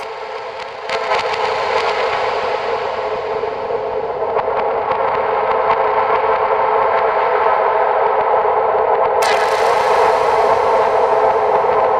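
A sustained, reverberant Serum 2 synth pad drones in the mid range, smooth and washy, with faint clicks and a bright burst near the end.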